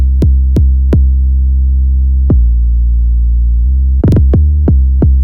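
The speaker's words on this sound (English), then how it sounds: "I made this simple heavy bass sound that is perfect for the final chorus." A heavy synth bass for a trap song's final chorus sustains a deep, buzzy tone with a few sharp plucked attacks, some quick repeated hits near the end, loud and alone.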